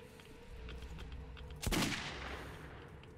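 A single sharp gunshot fired in the video game Metro 2033 Redux while shooting at enemies, a brief loud crack rising above a low steady game ambience, with no talk.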